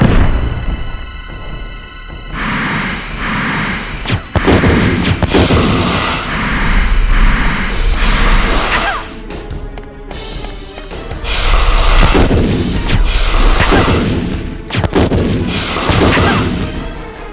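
Repeated heavy gunshots in the Resident Evil video game fight against a snake, loud booming blasts in uneven bursts over roughly seventeen seconds, with echoing tails between shots and no talk.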